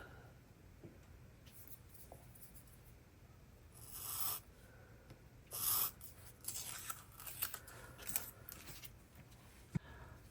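Scissors trim paper for an Erin Condren horizontal LifePlanner, giving faint, close snipping and rustling in several short bursts in a quiet room.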